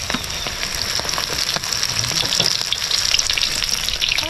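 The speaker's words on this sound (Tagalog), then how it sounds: "simulan natin ng prito sa ating susong hapon" Steady crackling and sizzling of golden apple snails frying in hot oil, close and fairly loud, with scattered pops over a constant hiss.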